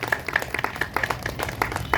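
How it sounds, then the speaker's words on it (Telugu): An audience at a devotional sankirtana singing program in Hyderabad claps together, producing dense, steady applause that fills the short moment without a break. "మరొకసారి వారికి మన చప్పట్ల ద్వారా వారిని ప్రోత్సహిద్దాం."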